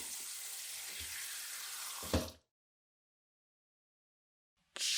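Steady rush of water from a bathroom sink being unclogged with baking soda runs for about two seconds, ends in a gurgling glug and a sudden stop, then silence before the flow resumes loudly.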